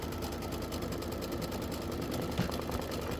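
Kimberbell embroidery sewing machine stitching a grass placement line, a steady close-up mechanical whir with a fast regular needle rhythm that runs continuously throughout.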